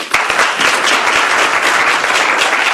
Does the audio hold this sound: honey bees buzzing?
no